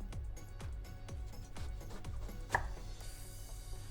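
Knife chopping through eggplant on a cutting board, about nine evenly spaced firm cuts with a sharper knock near the end, close and alone with no talk.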